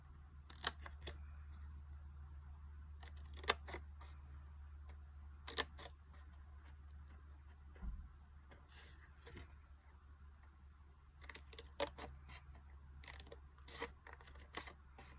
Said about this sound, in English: So just snip right down to that corner.